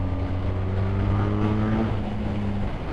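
A BMW R1300R motorcycle engine drones steadily while riding, a close, loud, continuous hum with slight shifts in pitch and no talking.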